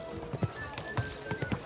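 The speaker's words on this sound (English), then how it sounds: "Easy, good horse." A horse's hooves clip-clop in a quick, uneven rhythm in Kingdom Come Deliverance 2, fairly quiet and close, with faint background ambience.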